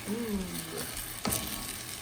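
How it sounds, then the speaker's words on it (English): Steady bubbling sizzle of General Tso chicken sauce at a rapid boil in a pan, reducing, close and continuous, with a short low murmur near the start. "we're gonna bring this up to a rapid boil, reduce the sauce, concentrate the flavor"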